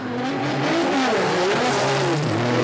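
A Formula Drift Japan car screams through a drift at Suzuka in the 2023 twin battles. The engine is loud and sustained, its pitch climbing and dipping with throttle, with tyre hiss under it and a commentator faintly in the background.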